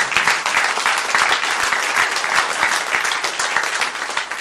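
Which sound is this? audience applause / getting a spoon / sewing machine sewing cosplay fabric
audience applause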